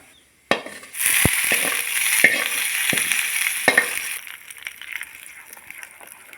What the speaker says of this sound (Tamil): இப்போ அதே எண்ணெய் சட்டியில் கொஞ்சம் எண்ணெய் ஊற்றி எண்ணெய் காஞ்சதும் கடுகு மட்டும் போடலாம்